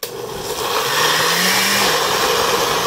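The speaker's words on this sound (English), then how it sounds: "I've added everything and I started to blend" A blender on its smoothie setting whirs loudly and steadily while making roasted red pepper hummus, its motor climbing in pitch as it starts up, then holding a constant grinding roar.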